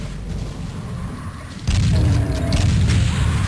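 Heavy booming blasts from rockets or grenades in Doom 2, a low rumbling roar that suddenly grows louder partway through and keeps rolling, with no talking over it.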